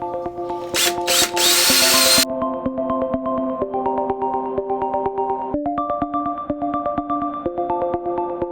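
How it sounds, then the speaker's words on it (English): A power drill whirs loudly boring drain holes into a bonsai pot, a short high-pitched burst then a steady grinding drone, heard up close with no talking. "let's just give it a drill"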